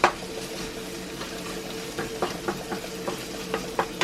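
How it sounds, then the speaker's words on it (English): Bacon frying in a pan as it is stirred, a soft steady sizzle under repeated scraping and clinking strokes of a utensil against the pan, close and moderately quiet. "stir the bacon in"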